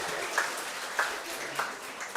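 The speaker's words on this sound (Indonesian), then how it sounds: "Tepuk tangan untuk mereka ya." Congregation at a Catholic Mass clapping for the performers, a moderate, fairly thin patter of hands with a few sharper claps standing out, heard alone without talk.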